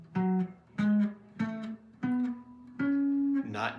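Five sustained notes rising stepwise along a single string, a major scale with a flatted seventh, each plucked note ringing briefly before the next; close and moderately quiet, alone.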